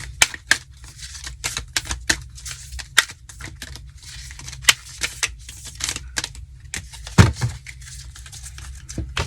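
Rapid, irregular clicking and riffling of tarot cards being shuffled close up, with sharp snaps and soft paper rustles in quick bursts.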